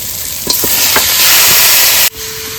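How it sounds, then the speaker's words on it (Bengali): Duck meat tipped into a pan of fried spice masala for duck curry sets off a loud steady sizzle with a few scraping stirs, then the sizzle cuts sharply and settles into a lower, quieter fry. "মশলাটা কষানো হয়ে গেছে এবার মাংসটা ঢেলে দেবো"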